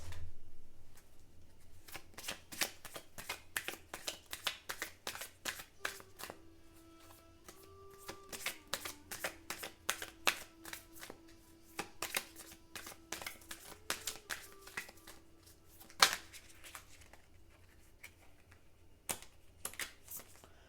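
Butterfly affirmation cards being shuffled and handled, a long run of crisp riffling flicks and slaps at close range, with steady tapping rhythms and brief pauses, no speech.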